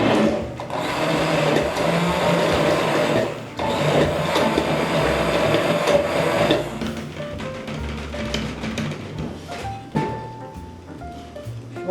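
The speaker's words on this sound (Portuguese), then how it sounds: "a gente tem que bater num copo mais fundo para o mixer não explodir para todo lado" A hand mixer whips a small batch of Italian meringue in a deep cup, its loud motor whirring steadily, briefly dropping and resuming, then running more unevenly with clattering and higher tones toward the end.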